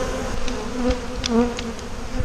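A honeybee colony nesting in an old oak tree buzzes steadily up close, a dense droning hum with individual bees whining past the ear.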